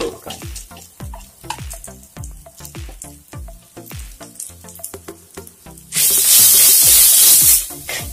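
Spices and grated coconut roasting in a clay pot for a Kerala chicken curry masala, giving a steady crackle with scattered pops, then a loud hissing sizzle bursts in near the end.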